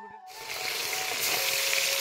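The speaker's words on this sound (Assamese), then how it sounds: "এয়া মাছ ভাজিবলৈ ৰেডি কৰিছে" Fish frying in a kerahi wok, a steady close hiss of sizzling oil that starts suddenly after a brief quiet moment and holds loud and even throughout.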